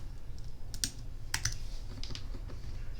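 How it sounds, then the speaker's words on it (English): Several quick keystrokes tapped on a computer keyboard while typing a short word in a design program, clustered in two small bursts over steady low background hum, close and fairly quiet. "I am going to type in the word Idaho"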